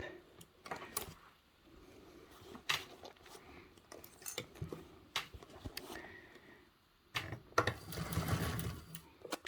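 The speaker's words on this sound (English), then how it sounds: "so we're sewing all of this together" A sewing machine stitches the layers of a tote bag together in short bursts, with quiet pauses and small handling clicks between runs, close and fairly soft.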